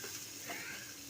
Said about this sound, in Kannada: ಮತ್ತು ಫ್ರೈ ಮಾಡಬೇಕು.